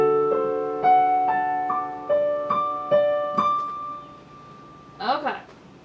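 A piano plays a measure of a piece, a short run of single notes ringing in an even rhythm before a sustained final note, followed by a brief voiced sound at the end.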